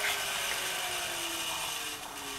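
Small treadmill motor driving an 8-frame honey extractor, a steady mechanical whir with faint tonal hum lines and a slight pitch drift as the motor slows, running alone and fairly loud throughout.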